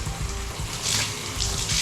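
Cold tap water runs steadily from an apartment faucet, a close, continuous hiss and splash with slight swells in strength and no talk.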